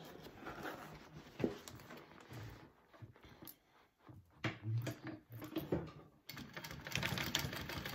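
A sewing machine bastes handbag pieces, running in uneven bursts of rapid close stitching with short pauses between them, fairly quiet, with no talk.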